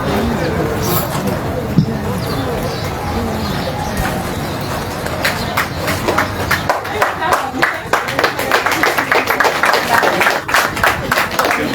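An audience at a staff engagement meeting of an electricity company claps, starting as a murmur of voices and rising into brisk, dense applause in the second half, with talk mixed in underneath.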